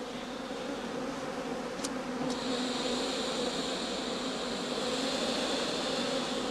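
Honeybees in a heather skep apiary in late autumn give a steady, dense buzzing that holds at an even level throughout, with no talk over it.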